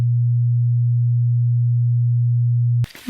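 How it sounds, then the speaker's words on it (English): A steady low 120 Hz full-wave rectifier hum drones on at constant pitch, loud and unbroken, then cuts off abruptly into a short burst of noise. "here is 120 Hertz full wave rectifier noise in the"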